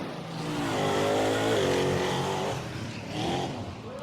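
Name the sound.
drag truck with blown alcohol-injected big block Ford engine revving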